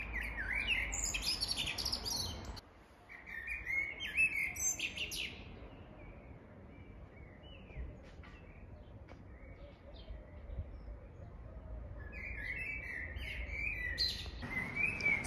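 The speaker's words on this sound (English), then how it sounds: "there is a bird welcoming us right now" Birds chirp and sing outside a Hilton hotel, bright repeated tweets loud at the start and again near the end, softer chirps in between over a low background hum.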